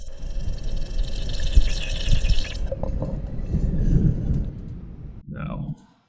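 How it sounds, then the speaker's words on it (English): Someone blows into a cup of water, making a bubbling, gurgling churn close up, rising and falling for several seconds before cutting off, with a voice briefly at the end. "This is literally just me blowing into a cup of water right now."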